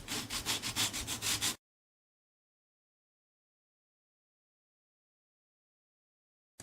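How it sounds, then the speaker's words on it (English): Mandolin frets are leveled down to the ebony fingerboard on a belt sander. A short burst of about eight rhythmic rasping strokes comes first, then the sound drops to silence. "I'm going to go over to the sander and I'm going to level off these frets down to the ebony."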